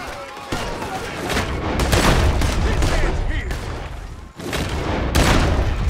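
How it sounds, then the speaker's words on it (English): Rapid gunfire crackles through a Red Dead Redemption 2 shootout, with dense overlapping shots and booming reports filling the scene loudly, briefly dipping before resuming, while characters shout over it. "There he is! Shoot that man!"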